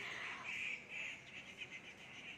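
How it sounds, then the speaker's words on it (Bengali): Birds call outside in the morning after rain, a few faint, high chirps and warbling notes heard from a distance over soft background noise. "পাখি ডাকছে আমাদের এখানে।"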